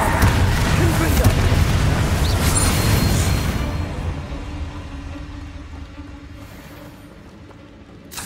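A loud explosive spell blast from the video game Hogwarts Legacy, a heavy booming burst with rumbling debris that fills the first few seconds, then fades into a lower, quieter game soundscape.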